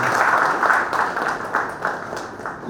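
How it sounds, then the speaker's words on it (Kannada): Loud applause from a ceremony audience greeting a commissioner of commercial taxes, with steady dense clapping that swells and dips in waves for a few seconds, no talk over it. "ಜೋರಾದ ಚಪ್ಪಾಳೆ"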